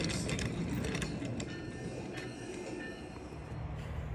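An Amtrak Cascades passenger train with a Siemens locomotive rumbles along nearby, steady wheel noise and clatter with faint rail squeaks, gradually easing off.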